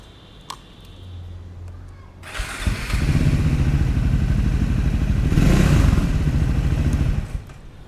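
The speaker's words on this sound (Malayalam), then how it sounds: "അപ്പോൾ ഞാനൊരു വണ്ടി സ്റ്റാർട്ടായി കാണിച്ചു തരാം" A Triumph Scrambler 400X motorcycle starts up: after a quiet stretch with a small click, the engine catches and settles into a loud, steady, close idle with a slight rise in revs before easing, heard alone without talk.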